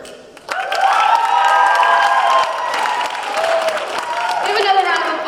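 Audience at a poetry slam breaks into loud, sustained applause and cheering, a dense wash of clapping with whoops on top that swells after a quiet start and holds for several seconds.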